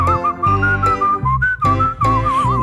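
A person whistles a lilting tune with wavering, sliding notes over a steady instrumental backing, the melody carrying clearly throughout.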